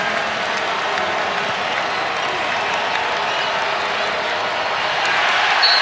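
Dense, sustained crowd cheering and applause inside an arena at a VCU versus LSU basketball game, loud and continuous, swelling slightly toward the end, with a commentator's voice mixed into the roar.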